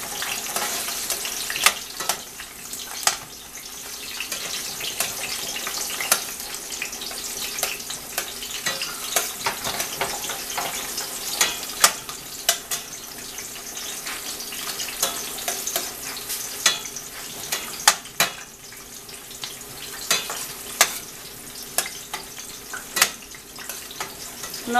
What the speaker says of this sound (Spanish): Ahora estamos dejando que se dore la cebolla.